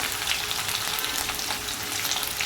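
Potato pieces fry in oil in a pan, giving off a bright, continuous sizzle with faint crackles and no talking.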